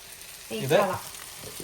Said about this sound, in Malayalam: ഇത് ചൂര വറുത്തോണ്ടിരിക്കുന്നു